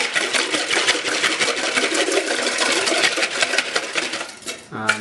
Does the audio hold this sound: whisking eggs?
yes